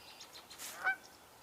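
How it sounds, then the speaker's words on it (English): A Canada goose gives one short honk from some distance outdoors, faint against a quiet background, with no voices. "Sounds like there are more Canada geese that I can't see at this moment."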